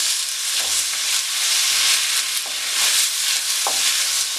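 Tomatoes and onions sautéing in a pan for Manjali biryani: a steady, loud frying hiss under repeated scraping stirs, close up and without voices.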